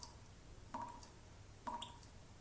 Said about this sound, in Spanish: El sonido de las gotas cayendo se hacía cada vez más fuerte